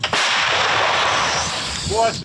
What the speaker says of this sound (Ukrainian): Зараз буде постріл 105 мм по піхоті противника.